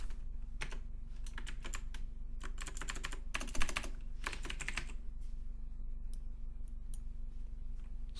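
Fingers type on a computer keyboard in quick bursts of clicky keystrokes separated by short pauses, close and fairly quiet.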